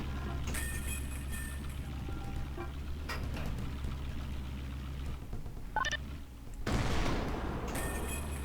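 An armored car in the GMod game fires its gun while driving, a couple of sharp shots over a constant rumbling engine and rough rushing noise, ending in a loud hissing blast.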